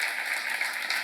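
A church seminar audience applauds, a dense, steady wash of clapping hands that fills the room for a brief moment, with no voices over it.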